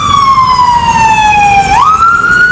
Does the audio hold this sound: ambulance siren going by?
yes